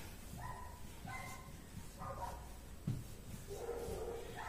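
A dog barks several times in a row in a home during kitchen cabinet cleaning, short yappy barks at a moderate distance over low room noise, with no speech.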